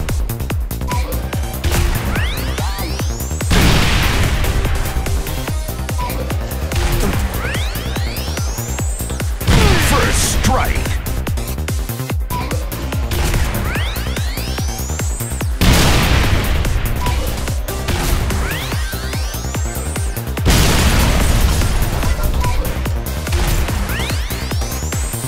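Plasma launcher blasts in Halo Reach: four heavy booms land roughly every six seconds, each followed by rising, whistling streaks over a constant bed of game noise, with no voices.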